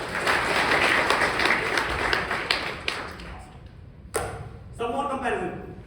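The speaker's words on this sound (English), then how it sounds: "Either we all clap loudly or nobody claps." An audience at a tech conference talk claps in a loud, dense burst that thins out midway, followed by a few scattered claps and taps as the room settles.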